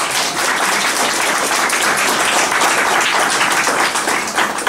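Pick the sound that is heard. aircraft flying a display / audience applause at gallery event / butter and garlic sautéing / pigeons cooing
audience applause at gallery event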